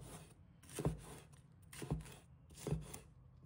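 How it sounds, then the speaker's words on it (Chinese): A knife cuts green and red bell peppers into small pieces on a cutting board in a home kitchen, with three distinct, fairly close chops spaced about a second apart over a quiet background, and no talking. "把它切成小块"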